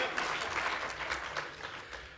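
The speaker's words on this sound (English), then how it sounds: "Give yourselves a round of applause." An audience at a gaming conference talk claps steadily for a couple of seconds, a fairly soft, continuous patter of applause.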